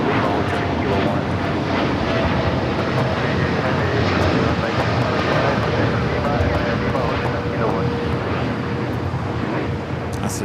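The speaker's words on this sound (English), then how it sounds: "That's the Dreamliner heading to Chicago. Brand new Dreamliner delivered in February 2025." A Boeing Dreamliner jet airliner roars at LAX with a loud, sustained broadband rumble throughout, while voices talk faintly underneath.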